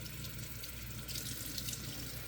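Cold water runs steadily from a tap while rinsing a Barbie doll's hair, a continuous close splashing rush with no talk.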